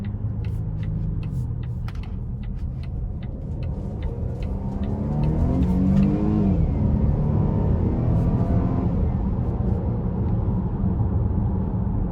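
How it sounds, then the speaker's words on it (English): A Volvo XC60 T5 in manual mode pulls out of a corner, its engine drone climbing steadily as it accelerates and then easing, heard from inside the cabin alongside light ticking clicks. "We're gonna put it in manual mode real quick out this corner."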